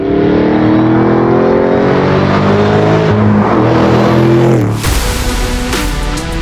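Supercharged Ford Mustang Shelby GT500 accelerating hard, its engine note climbing loud and close through rising gears before a shift-like break near the end, no talk over it.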